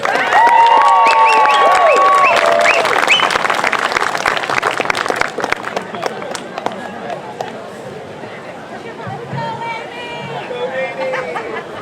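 Audience applause for Amy Wheeler at a speech event, loud and sustained from a large crowd for several seconds, gradually thinning into scattered clapping and murmuring chatter.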